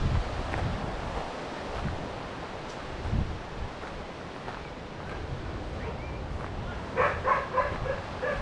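A dog barks several times in a quick cluster near the end on a coastal trail above the beach, over steady wind and distant surf.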